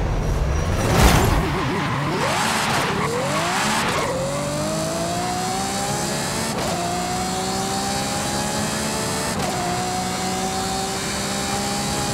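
A 2019 Ferrari Monza SP2 in Forza Horizon 5 launches with a loud tire squeal, then its engine revs up steadily through rising gear pulls, a smooth continuous high-pitched roar with brief dips at each shift, close and alone.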